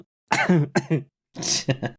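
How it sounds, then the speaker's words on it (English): Two bursts of harsh coughing, a pair of quick hacks, a pause, then another cluster of coughs, close and loud. "I'm the one that's supposed to cough."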